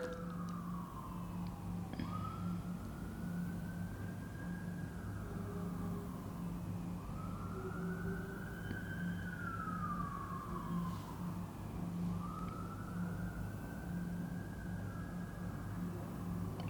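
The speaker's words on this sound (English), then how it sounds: "I'm hearing sirens outside." A distant emergency siren wails in slow rising and falling sweeps, repeating several times over a low background hum, fairly faint and without talk.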